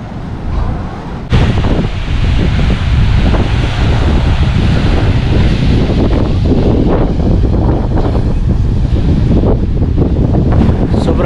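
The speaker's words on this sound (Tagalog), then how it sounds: "Sobrang malakas yung hangin." Strong gusting wind buffets the microphone at a beach in Forster, New South Wales, Australia, with waves rumbling underneath; the roar jumps louder after a second and stays constant.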